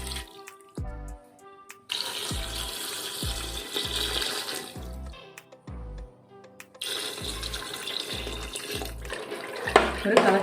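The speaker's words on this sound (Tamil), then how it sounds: "அதனால் இதில் நம்ம 3 டம்ளர் தண்ணி விடணும்." Water running from a tap into a pasta pot while cooking Indian-style macaroni, a steady splashing rush that starts and stops in bursts, close and moderately loud, with low thumping underneath.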